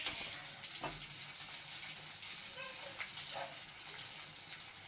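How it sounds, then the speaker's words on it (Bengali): Onion fries in oil with a soft, steady sizzle and a few faint pops and spatters, quiet and close throughout. "পেঁয়াজটা তেলে দিয়ে ভেজে নিচ্ছি"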